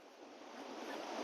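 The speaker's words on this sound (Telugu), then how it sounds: "అదిగోండి వాటర్ ఫాల్" A large waterfall roars at the end of a trek in Andhra Pradesh near Tarabu. The broad, steady rush of falling water seems somewhat distant and swells slightly toward the end. No one speaks over it.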